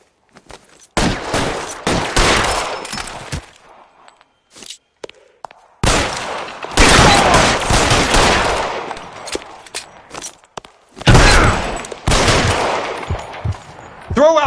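Gunfire in the 1940s crime game L.A. Noire comes in three loud, dense bursts of rapid shots separated by quieter gaps, with scattered thuds and brief shouts around them.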